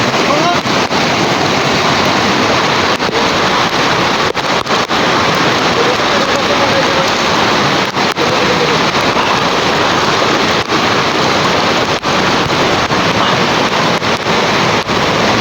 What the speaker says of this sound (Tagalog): Ito malakas yung alon.